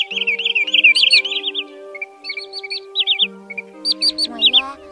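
Recorded call of a common greenshank, bursts of quick, high whistled notes repeated in clusters over a steady electronic hum, sounding like playback from a speaker.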